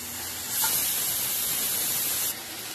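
Cabbage sabzi frying in oil over a high gas flame, a steady sizzling hiss that swells briefly then settles, close and alone without talk.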